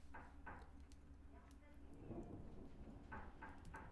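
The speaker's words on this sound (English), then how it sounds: "it does sound very stormy" Stormy weather in the video game Return of the Obra Dinn, with a low continuous rumble of thunder and steady rain filling the scene, a few faint knocks or clicks on top and a swelling roll near the middle.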